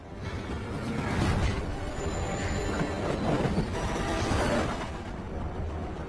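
A train roars past in a tunnel with a dense, rushing rumble and a brief high squeal of wheels, swelling and easing over several seconds.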